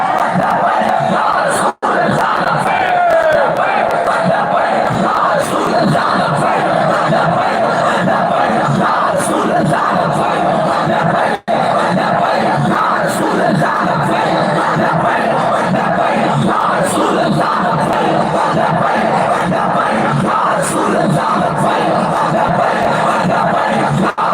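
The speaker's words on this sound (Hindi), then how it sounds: "नारा हमने वो लगाना है।" A large crowd at a religious gathering in Karachi chants a slogan in unison, loud rhythmic massed voices sustained for over twenty seconds with brief cuts.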